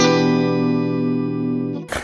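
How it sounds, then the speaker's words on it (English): A 2006 Mexican-made Fender 60th Anniversary Standard Stratocaster played through effects in the neck and middle pickup position, one sustained chord ringing loud and clean for nearly two seconds before a brief noisy burst cuts it off. "if we go in the neck and the middle position, as opposed to the bridge and the middle position"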